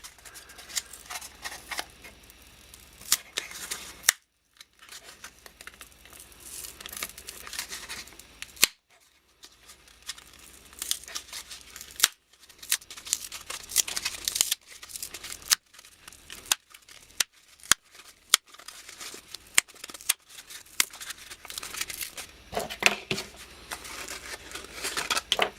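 The top paper layer is peeled off a sheet of cardboard in a close series of uneven tearing and crinkling bursts, broken by brief quiet pauses, with sharp clicks scattered throughout.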